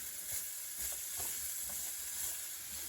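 Onions with green bell peppers sizzle steadily in an oiled pan while cooking down for Greek lamb and rice, giving a soft continuous hiss with faint crackles and pops throughout.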